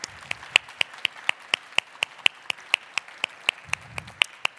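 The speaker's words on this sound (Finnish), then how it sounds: "Suuret aplodit annetaan vielä voittajille." Steady rhythmic clapping from a small audience applauding award winners at an investor-of-the-year event, even sharp claps with a faint murmur of voices beneath.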